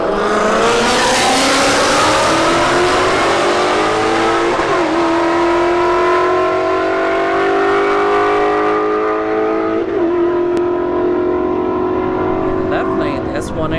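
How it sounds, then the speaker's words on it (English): An S197 Mustang makes a drag racing run at a street event, its engine revving loud and hard through rising gear pulls that shift up repeatedly. "S197 Mustang goes 126 miles an hour"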